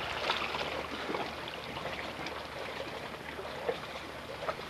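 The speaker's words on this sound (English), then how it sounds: "You love the sound of that water, don't you, love?" Flowing water, a soft continuous babbling trickle heard faint and steady outdoors with no talk.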